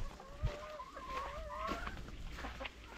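Chickens in a coop cluck and give drawn-out, wavering calls close by while eggs are collected, with a short knock near the start and soft rustling beneath.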